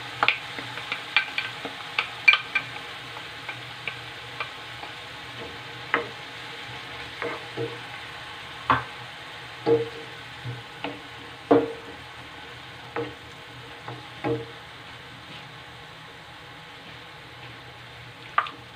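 Onion and pepper sizzle steadily in a frying pan while a utensil stirs them, giving a run of distinct scraping knocks over the continuous fry, close up with no voices.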